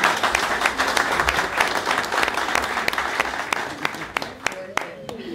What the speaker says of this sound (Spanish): Así es que un aplauso.